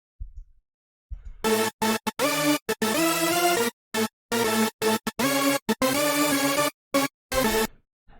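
Four stacked hardstyle lead layers of detuned saw waves, left unprocessed: harsh, buzzy, dense chopped chords in a choppy rhythm with abrupt stops and gaps, loud and bright.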